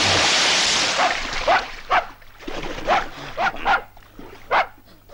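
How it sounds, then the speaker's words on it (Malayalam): A dog barks loudly and repeatedly, about eight sharp barks in irregular bursts, following a rush of broadband noise at the start. "പട്ടിയായിരുന്നു"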